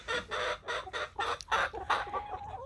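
Faverolles hens cluck in a run of repeated soft, rhythmic bursts, fairly close and steady, with neighbouring roosters kept nearby and no talking over them.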